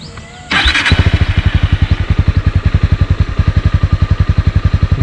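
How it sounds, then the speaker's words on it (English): A 2022 Honda CB300R BS6 motorcycle starts up and settles into a steady, bassy idle, its exhaust thumping in a fast, even pulse, close and loud with no talking. "That's the idle sound. It's quite bassy."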